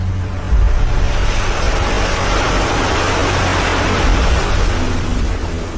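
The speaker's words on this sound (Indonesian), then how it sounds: "Suara deru ombak yang bersaut-sautan terdengar jelas sampai ke pondok." A broad, steady roar of surf rolls on without a break, waves washing in and out under a constant rush of noise.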